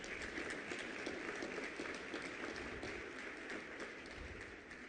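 Audience applause fills a room, a dense, even wash of clapping heard from a distance at low level, holding steady before easing slightly near the end.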